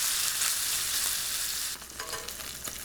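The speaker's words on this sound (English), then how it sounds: "once I take the steak and put it in the pan" Steak sears in a very hot pan with soybean oil, a loud, bright, continuous sizzle that drops off suddenly and then turns into softer, uneven crackling.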